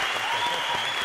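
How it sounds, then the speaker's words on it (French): Loud, continuous applause from a large audience, a brief burst of dense clapping with a faint tone running underneath. "je voudrais que vous applaudissiez extrêmement fort Jay Alexander"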